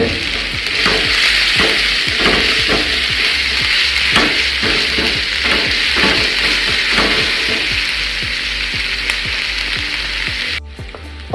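Sliced medium onion with salt sautéing in a pan for king fish mappas, a steady loud sizzle with stirring scrapes and clinks throughout, no voices.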